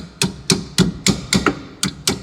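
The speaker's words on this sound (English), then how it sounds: "Make sure you tap that in with like a ball peen hammer." A ball peen hammer tapping on a rear strut part from a 2005 Lexus ES330, with seven sharp metallic taps at a steady rhythm, close and fairly loud, no talk.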